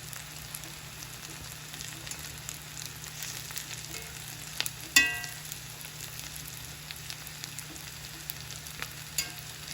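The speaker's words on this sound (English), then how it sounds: "I'm going to turn my heat down for a bit, and I'm going to put my potatoes in a layer" Potatoes for a Spanish tortilla fry gently in a pan over lowered heat, a soft steady sizzle with occasional stirring scrapes and one sharper clatter midway.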